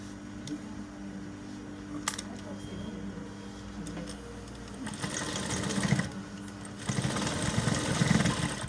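A sewing machine stitches a welt pocket, starting with faint ticking and mechanical hum before breaking into loud bursts of rapid, rattling stitching in two runs.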